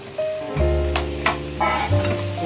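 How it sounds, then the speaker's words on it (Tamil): Tomatoes hit hot oil and sizzle in a pan for prawn thokku, a loud close frying hiss with short stirring scrapes over a brief stretch. "தக்காளி வதங்கட்டும்."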